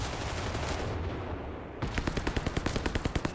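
Paired flak guns fire in Company of Heroes 3 as a fast run of sharp automatic bursts, evenly spaced and loud, following a dense wash of battle noise.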